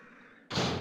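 A door slamming shut in the video game Resident Evil, one sudden loud broadband thud that cuts in over quiet ambience and rings on briefly.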